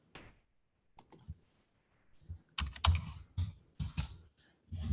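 A mouse clicks on a forex trading platform: a handful of sharp, close clicks and taps scattered at irregular intervals, with no talk.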